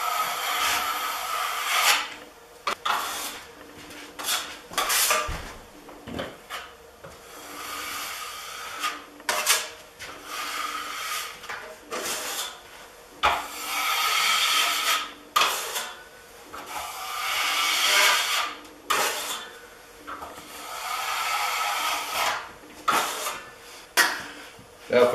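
A drywall trowel spreads and scrapes joint compound over a wall seam in repeated close, gritty strokes with brief pauses, while a voice talks quietly at times.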